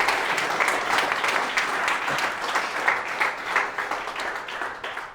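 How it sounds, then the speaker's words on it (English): Warm applause from a festival audience after a weekend event, an even patter of many hands that carries steadily for several seconds and thins slightly toward the end. "Just a round of applause for them"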